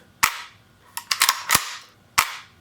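Tokyo Marui AKM gas blowback airsoft rifle fires a few close, sharp cracking shots: a single report, a quick cluster of three or four, then one more after a pause.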